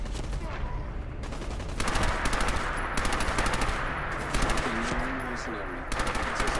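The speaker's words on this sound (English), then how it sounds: "Okay, submachine gun time." Rapid submachine gun bursts in the video game Fallout 4, several loud sustained volleys of automatic fire with brief pauses between them, close and dominant throughout.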